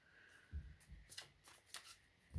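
Playing cards shuffled by hand during a reading, soft riffling bursts and papery slaps coming in short, uneven clusters, close and quiet.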